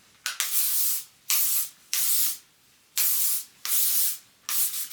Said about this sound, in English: first I'm going to start off with some heat protectant spray